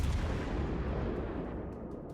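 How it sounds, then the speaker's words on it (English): Bombs exploding on a warship in World of Warships Legends, heard as a heavy, booming blast that rumbles and slowly fades over about two seconds, with no talking. "we're going to land some bombs"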